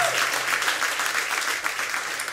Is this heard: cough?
no